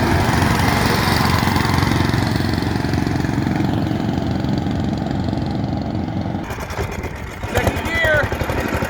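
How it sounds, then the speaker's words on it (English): A Cushman Coot utility vehicle runs at full speed with a steady, buzzing mid-pitched engine drone that is loud and close, then shifts in tone near the end as a voice speaks over it. "Here comes Dad in the Coot."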